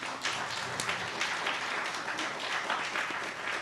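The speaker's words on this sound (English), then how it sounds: "Give them a big round of applause." A crowd at a memorial Aradhana Day gathering for a swami gives steady, moderately distant applause, with dense, even clapping continuing throughout.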